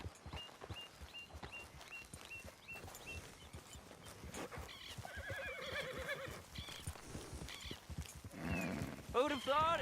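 Horse in the video game Red Dead Redemption II, hooves clip-clopping in an even rhythm throughout, then a loud whinny and snorting neigh near the end.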